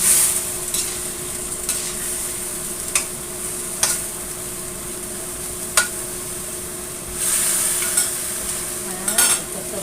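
Chicken meat spaghetti sauce stirred in a pan, with a steady soft sizzle and a scattering of sharp utensil scrapes and taps against the pan, several louder bursts of stirring standing out near the start and end.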